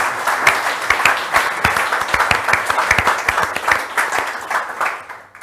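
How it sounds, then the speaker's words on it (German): Enthusiastic applause from an event audience honouring 1990 World Cup-winning footballer Thomas Berthold during a live interview broadcast, dense clapping with sharp individual claps throughout, fading slightly at the end; no talking. "Das löst nochmal einen besonderen Applaus"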